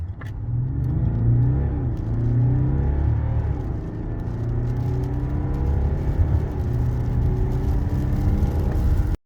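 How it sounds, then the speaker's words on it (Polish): A 2023 BMW 740d xDrive G70 with a 3.0-litre inline-six diesel accelerates hard, its deep engine drone climbing steadily through the revs, loud and close, with tyre and road rumble beneath. "jak auto zredukuje, to ładnie przyspiesza"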